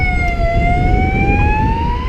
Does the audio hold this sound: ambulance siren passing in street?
yes